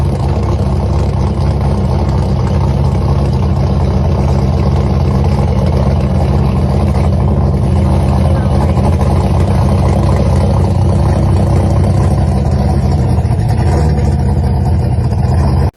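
Engine of a custom drag-style show car running steadily, a loud continuous rumble with a deep low end throughout, alone with no voices.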